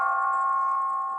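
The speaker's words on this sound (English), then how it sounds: "Doorbell." Electronic doorbell used as a sound effect, a steady sustained tone with strong harmonics ringing for about a second, loud and close with no other sound.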